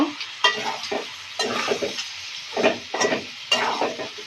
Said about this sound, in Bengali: একটুখানি গোলমরিচের গুঁড়া এখন দিয়ে প্রথমত নেড়ে নেব সুন্দর মতো কষিয়ে নেব